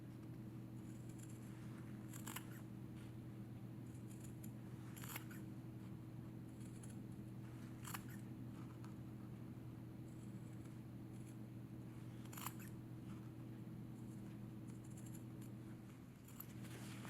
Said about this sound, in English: What I'm going to do now is cut darts around the curves